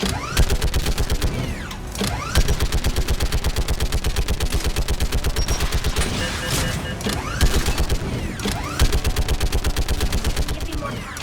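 A Mass Effect 3 turret fires in long, rapid automatic bursts, loud and close, with brief pauses and heavy impact booms between the streams of shots.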